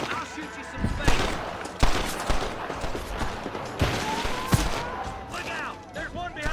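Gunfire in Red Dead Redemption, several sharp shots and short volleys spread across a noisy firefight, mixed with game background sounds and faint voices.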